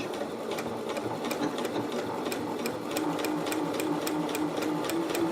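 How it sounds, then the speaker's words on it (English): An Elna eXpressive 850 sewing machine runs a straight test stitch through fabric. Its fast, even needle chatter continues steadily over a constant motor hum, close up. "let's take a piece of fabric and do a test stitching. So we are doing the straight stitch"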